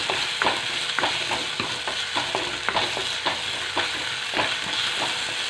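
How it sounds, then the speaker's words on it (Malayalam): Ginger and garlic frying in a pan with softened tomato and onion, a steady close sizzle broken by repeated scraping stirs of a spoon against the pan, with no talk. "അപ്പോൾ നമുക്ക് ഇഞ്ചിയും വെളുത്തുള്ളിയും കൂടി അതിലിട്ട് കൊടുക്കാം"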